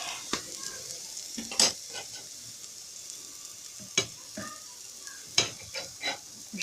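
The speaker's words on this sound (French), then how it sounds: "Je mélange très bien." Quinoa fries in a little oil in a pan with a soft, steady sizzle, while a utensil stirs and scrapes against the pan in scattered clinks and knocks, close and fairly quiet.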